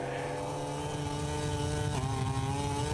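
Ducati MotoGP racing motorcycle at the 2022 Portugal round, its engine roaring loud and steady at high revs with a strong harmonic whine, a brief pitch shift near two seconds as it shifts, no talk over it.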